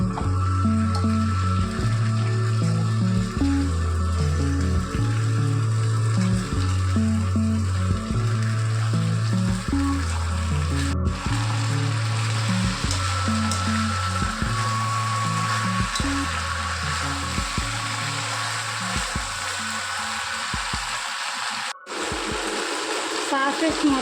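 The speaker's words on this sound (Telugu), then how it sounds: "హై ఫ్లేమ్లో టాస్ చేసుకోవాలి, అప్పుడే స్మోకీ ఫ్లేవర్ వచ్చి బాగుంటుంది." Fried cauliflower for gobi manchurian is tossed in a pan over a high flame, giving a steady sizzle with stirring and scraping under background music, plus a couple of sharp clanks toward the end.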